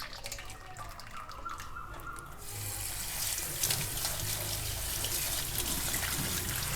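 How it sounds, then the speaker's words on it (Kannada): Cold water is poured over drained hakka noodles in a home kitchen, a steady rushing trickle that swells after a quieter start and runs continuously, close by and without talk. "ಇದು ಸೋಸಿದ ನಂತರ ಸ್ವಲ್ಪ ತಣ್ಣೀರು ಹಾಕ್ಬೇಕ್ರಿ."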